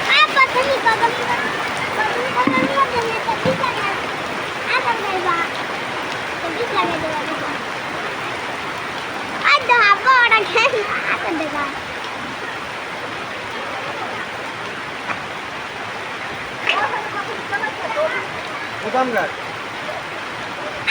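Steady rain pours down in a broad, even wash that never lets up, while people talk close by over it for the whole stretch.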